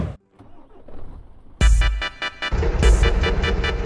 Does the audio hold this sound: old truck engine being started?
yes